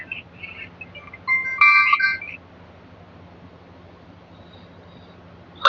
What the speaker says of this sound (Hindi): मेरे पास मुराद भाई जी का भी फोन आ रहा है, दिनेश जी का भी फोन आ रहा है।